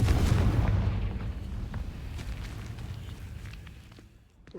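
A Confringo blasting spell explodes in the video game Hogwarts Legacy, a loud, broad boom with a heavy low rumble that decays slowly over several seconds, with faint crackles scattered through the tail.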